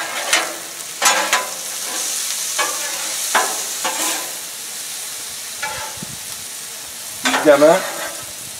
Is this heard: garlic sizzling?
yes